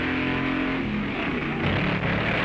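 A 1950s hot rod A-gas coupe races at a drag strip with a steady, loud engine roar that shifts in pitch as it accelerates, a close, continuous mechanical drone with no talk.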